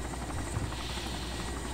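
A game helicopter's rotor chop and engine whine run steady and fairly loud throughout, a continuous low throbbing drone with no talk.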